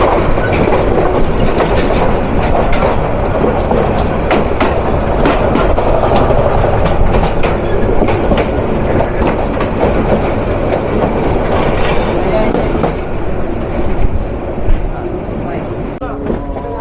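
Turag Commuter train rolling past close by on the Bangladesh line, a loud, steady rumble with continuous clickety-clack of wheels over rail joints for the whole stretch, easing slightly near the end.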